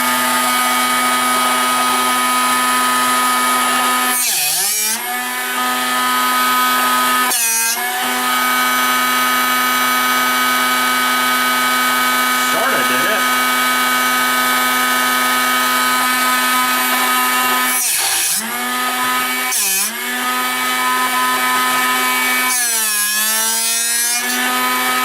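Power drill running with a new split point drill bit, a loud steady whine lasting most of the stretch, broken by several brief dips where the motor bogs and recovers, with no voices.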